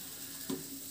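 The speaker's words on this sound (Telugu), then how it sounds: "వేగాక పచ్చి శనగపప్పు మినపప్పు వేసి వేయించుకోవాలి" Chana dal and urad dal frying in oil for hotel-style idli sambar, a soft steady sizzle with a brief louder crackle midway and another near the end.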